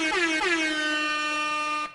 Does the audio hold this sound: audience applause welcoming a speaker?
no